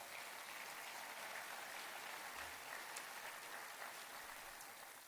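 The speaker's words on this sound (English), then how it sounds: "That deserves a round of applause." Audience applause at a mayor's State of the City address: steady, even clapping from a large crowd fills the whole stretch at a moderate, slightly distant level with no talk over it.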